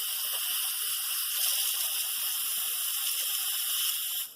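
Steam hisses from an Instant Pot pressure release while cooking mac and cheese, a loud, close, steady jet of hiss that stops at the end.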